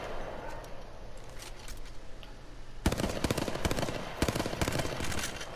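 Automatic weapon fire in the Apex Legends video game: a quiet stretch, then a loud, rapid burst of shots from about the three-second mark that runs nearly to the end, with one brief break.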